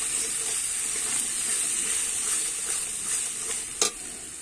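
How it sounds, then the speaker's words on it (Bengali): Spices with salt sizzle steadily in a hot pan while being stirred for an aloo fulkopi curry, a continuous close frying hiss broken by a soft scrape of the spoon near the end. "এবারে কিন্তু একটু নেড়ে চেড়ে নেব।"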